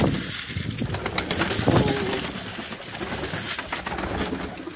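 Breeder pigeons cooing and softly fluttering at close range while mixed grain is put out for them, a steady dense layer of bird sounds with light rustling throughout.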